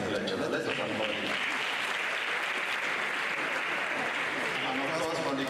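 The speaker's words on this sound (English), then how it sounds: "Let's applaud him" Audience applause at an inaugural university lecture fills the hall with steady, dense clapping from start to finish, while a voice speaks over it.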